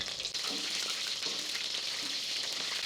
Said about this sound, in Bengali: চিংড়ি মাছগুলো পরিপূর্ণ ক্রিস্পি ফ্রাই হওয়া পর্যন্ত আমাকে অপেক্ষা করতে হবে